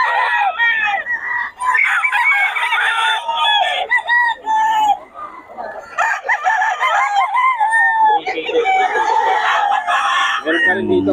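Young roosters (stags) at a poultry seller's, several birds crowing and clucking close by in overlapping bursts almost without pause, with a voice talking among them.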